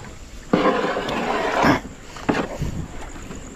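A boat moving across open water on Bato Lake in the Philippines: broadband rushing and splashing swells in two surges, with wind noise buffeting the microphone.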